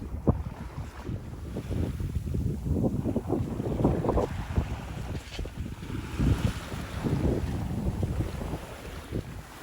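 Strong wind roars across a sailboat about 75 miles offshore as a squall passes, a steady, gusty low rumble buffeting the microphone with water wash underneath.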